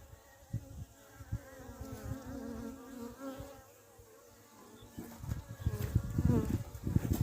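Honeybees buzzing loudly and continuously at an opened hive during a swarm-strengthening inspection, with close, fluctuating wingbeat drone and some handling knocks and rustles toward the end.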